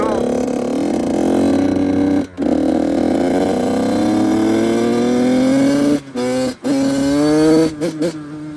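A two-stroke 85cc motorcycle being ridden, its engine buzzing loud and close with a rising, revving whine, dropping out briefly a few times as the throttle is chopped.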